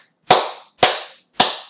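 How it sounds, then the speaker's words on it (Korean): Three sharp, close hand claps in an even rhythm, each a crisp single slap with a short decay, with nothing else in between. "박수 한번 쳐볼까요?"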